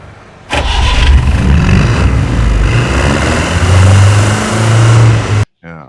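An Ambassador car engine starts with a sudden loud crank, then settles into a steady, loud rumbling idle that swells briefly before cutting off abruptly.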